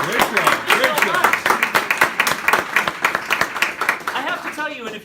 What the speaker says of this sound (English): I need a round of applause for our first-time presiding officer, Miss Christy Zolpinski.